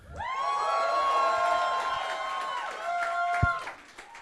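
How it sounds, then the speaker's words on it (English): A crowd at a World of Warcraft community event in London cheers and whoops loudly. Many shrill voices swell together, hold, then taper off, with a sharp thump near the end. "let's see if we can make that cheer even louder"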